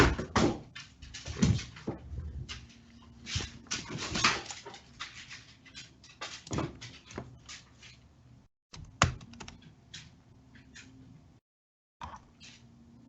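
A dog plays and whimpers indoors, tossing a toy around with scattered thumps and clatters, high whines coming in short irregular bursts, and brief silent gaps.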